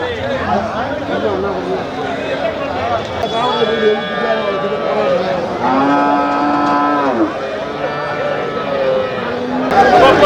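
Cattle mooing at the Vadipatti cattle market, several long, loud lowing calls rising over the steady chatter of a crowd of traders and buyers.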